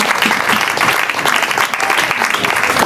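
Worshippers in a church service clap for the king of kings, a continuous, close, even wash of applause filling the whole moment.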